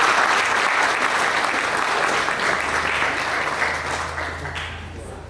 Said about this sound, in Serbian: Bravo! Aplauz!